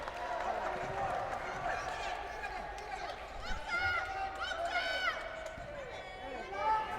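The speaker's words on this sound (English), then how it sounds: "I love this Fil-Euro crowd trying to give instructions to their players" A Fil-Euro basketball crowd in a gym during free throws, voices calling out and shouting over general murmur and chatter, moderately distant and fairly faint, with a commentator talking over it.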